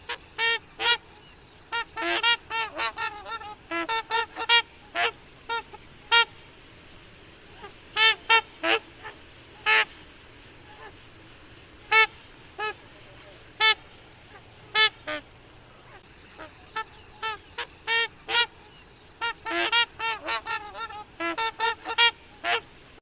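Trumpeter swans in Washington State call repeatedly, loud resonant honks in bursts and clusters, some overlapping, spaced irregularly over a quiet outdoor background.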